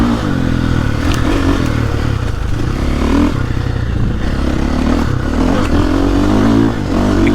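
A 2023.5 KTM 450 Factory Edition dirt bike with an Akrapovic exhaust rides over bumps, a loud, steady engine drone with continuous rattling and scraping from the terrain, close up.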